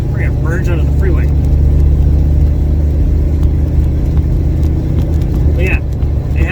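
A 1967 Chevy Nova with a 700R4 transmission accelerates onto a freeway, its engine a loud steady drone with road and wind roar heard from inside the cabin.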